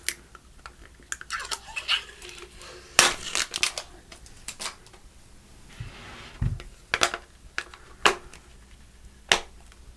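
Protective plastic film peeled off a Spigen case for a Pixel 9 Pro XL, giving a string of sharp crinkly crackles and snaps. Two louder rips stand out, close and alone with no voice.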